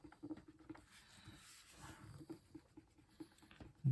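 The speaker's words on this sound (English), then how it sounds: "we'll just give it a good surface wipe with the click eraser" A click eraser rubs lightly across the surface of a Batman #251 comic book during cleaning, giving a faint, soft, scratchy patter of short strokes close by.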